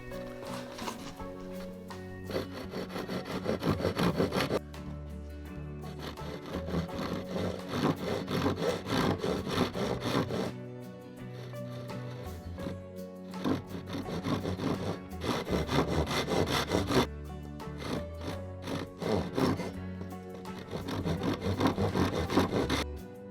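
A hand saw rasps through wood while cutting notches for a homemade flag pole, steady back-and-forth strokes in long close bursts with brief pauses between runs, no voices.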